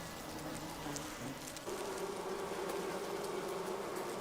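Japanese honeybees fan at their hive, a continuous dense buzzing drone heard close up and moderately loud, steady throughout with a slight shift in pitch partway through, and no voices.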